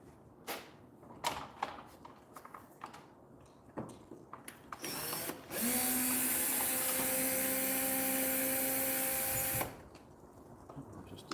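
A screwdriver removing the top screw during a garage door opener swap: a few sharp taps and clicks, then a steady whirring motor tone for about four seconds that stops abruptly, close by with no talking.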